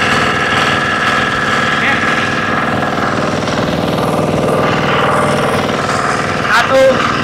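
A motorcycle engine runs in first gear at half throttle, a steady, close, buzzing drone with a rapid pulsing vibration that holds even throughout, with a voice speaking briefly near the end.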